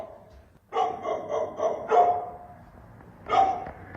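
A dog barks inside an abandoned building: a short burst of three or four harsh barks, then a single bark after a pause, fairly close and echoing.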